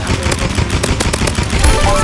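Rapid paintball gun fire in the video game Rivals, a dense, loud burst of quick repeated shots running through the whole moment.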